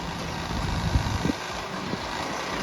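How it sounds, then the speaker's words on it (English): A tractor engine runs steadily at Devon Cliffs holiday park while moving a caravan onto a pitch, giving a continuous low rumble mixed with outdoor wind noise and a few brief knocks. "Here comes the tractor, disconnected, it's ready to take flight."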